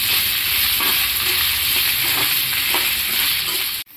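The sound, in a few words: ginger and dried red chillies frying in a pan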